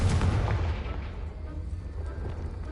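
A fiery Confringo blast spell in the video game Hogwarts Legacy erupts loudly at the start, then its rumbling boom trails off over a couple of seconds.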